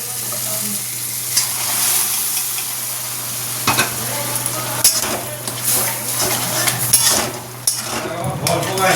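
Ghugni is tipped into a frying pan over a sautéed base and stirred, giving a loud continuous sizzle with repeated scraping and clanking of a spoon on the pan, over a low steady hum.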